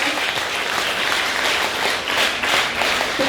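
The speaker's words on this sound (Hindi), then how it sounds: "इतनी खूबसूरत कृति के लिए इतनी कम तालियां समझ में आई।" Applause from an audience at an NCC cadet honour ceremony, greeting a cadet's handmade best-out-of-waste artwork: steady dense clapping throughout, fairly loud and continuous with no voices over it.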